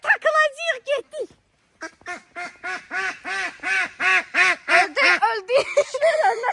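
A duck being caught quacks repeatedly and loudly close by, in a rapid run of harsh, nasal calls after a brief pause near the start.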